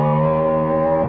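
A reconstructed Tyrannosaurus roar sounds as a short, loud, distorted bellow that holds one rich, rumbling tone for about a second, then cuts off abruptly.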